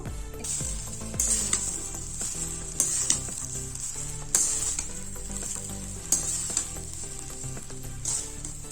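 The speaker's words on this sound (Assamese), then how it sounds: "তেলখিনি গৰম হৈছে। এতিয়া মই বইল কৰা চাউলখিনি দিম। লৰাই দিছো।" Sizzling and frying in a hot pan as boiled rice is stirred in hot oil for vegetable pulao, with repeated scraping stirs, a spatula clanking against the pan every second or two, close up.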